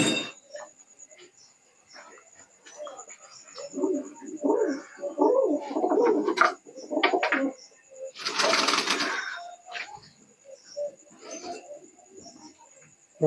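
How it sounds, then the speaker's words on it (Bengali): Teddy and Rampuri pigeons in a loft make low cooing calls amid fluttering, shuffling and light clinks, with a faint high whine running throughout and a brief burst of noise in the middle. "সব কবুতরগুলো তোমাদেরকে দেখালাম"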